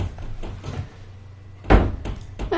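Someone closes a door with a single clear thud against quiet room noise, followed by a few soft rustles and knocks.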